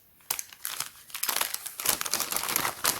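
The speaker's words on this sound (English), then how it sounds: "Sorry, the rustling. I hope that's not too annoying." Plastic and paper packaging of an advent calendar window crinkles and rustles close up as it is torn open, a busy run of crackling bursts with no talk.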